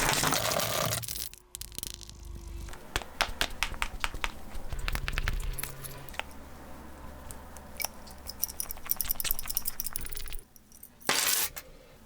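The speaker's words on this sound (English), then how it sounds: "throw this in your pocket with keys and change" A phone with a screen protector rattles inside a pocket with keys and coins, giving irregular metallic jingles, clinks and scrapes in bursts with brief pauses, close and fairly faint.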